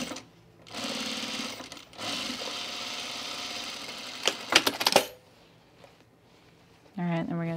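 A sewing machine topstitches chino pants, running in steady whirring bursts with pauses between, plus some sharp clicks; a voice briefly talks near the end.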